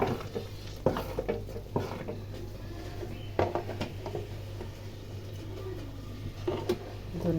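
Khichuri with fresh coriander leaves stirred in a pot, giving soft scraping and spoon knocks over a low sizzle, with a steady hum and occasional bird coos in the background.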